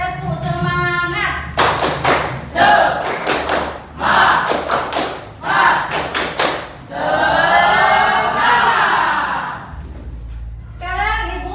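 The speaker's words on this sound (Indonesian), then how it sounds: "Silakan kalian tepuk semangat. Tepuk semangat." Classroom students perform a rhythmic chant-and-clap routine, loud bursts of sharp claps in patterned groups alternating with children's voices chanting together, close and lively.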